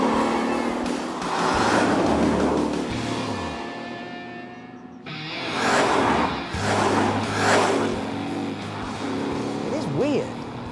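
Ford Mustang GT with a big V8 on the move, engine rumble rising and falling with gear changes and acceleration, running under a man's speech.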